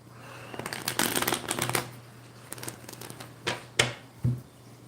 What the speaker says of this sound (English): Let me just shuffle these back in and clear that energy out.